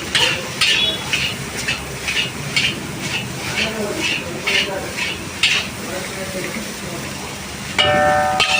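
Soft chicken noodles with a little sugar stirred and tossed in a pan, producing a steady rhythm of scraping spatula strokes against metal with a light sizzle underneath and a brief clink near the end.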